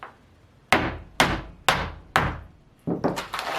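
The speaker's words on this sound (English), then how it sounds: "Need a bigger hammer." Hammer blows land one after another on something hard: four loud, sharp strikes spaced about half a second apart, then a quicker flurry of lighter taps at the end.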